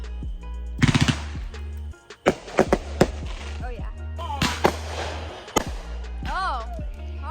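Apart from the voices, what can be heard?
fireworks exploding on the Fourth of July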